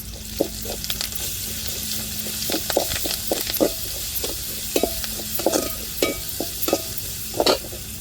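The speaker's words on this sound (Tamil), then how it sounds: "இப்போ பூண்டு சேர்த்துக்கிடுவோம்" Garlic sizzles steadily in hot oil with curry leaves in a pan, with intermittent stirring scrapes and clicks throughout.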